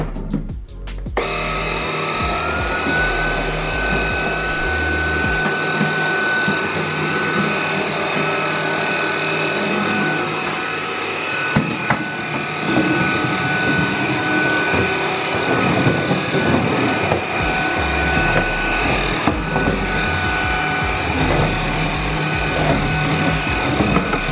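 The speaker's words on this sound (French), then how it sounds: "je vais le faire avec l'aspirateur balai" An Ultenic U10 Pro stick vacuum cleaning stairs runs continuously with a steady high motor whine, its pitch shifting slightly as it works, with occasional bumps and scraping.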